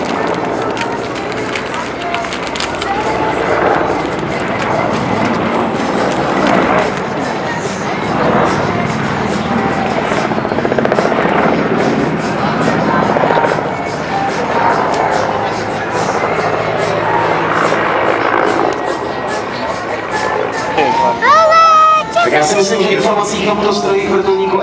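A Mi-24 military attack helicopter performs a flying display at a NATO and air force show, its loud rotor and engine roar sustained throughout and shifting as it manoeuvres.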